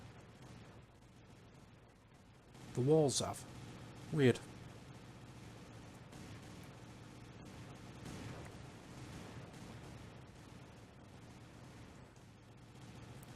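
Two dynamite blasts in the block-building game Total Miner go off about a second apart, both sharp and punchy, followed by a quieter stretch while someone talks over the scene.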